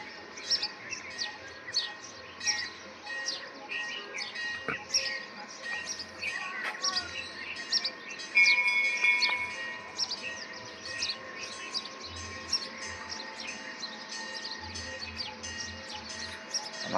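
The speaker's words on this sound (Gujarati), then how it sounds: "અહીંયા ચકલાઈ બોલે છે" Early-morning sparrows near a temple fill the air with rapid overlapping chirps and tweets, a steady lively chorus close by, with soft low rumbles of background noise underneath.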